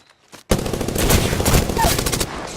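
Prowler gunfire in the Apex Legends video game: a sudden, loud sustained burst of rapid automatic shots lasting nearly two seconds after a short quiet lead-in.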